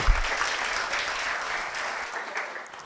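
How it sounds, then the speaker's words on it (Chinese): Audience applause welcoming a museum director at the opening talk of an art museum, a dense, steady wash of clapping filling the room and slowly tapering off, with no voices over it. "以热烈嘅掌声欢迎我哋嘅杨馆长"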